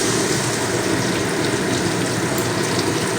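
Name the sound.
water poured into mustard gravy for rohu fish curry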